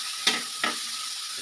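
Two quick scrapes of a spoon stirring vegetables in a pan after turmeric powder is added, for a vegetarian Malabar spinach (pui) chorchori, with a soft steady sizzle underneath.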